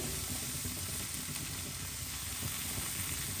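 Okra sizzles and fries steadily in a pan with salt, stirred now and then, a continuous close hiss with occasional soft scrapes.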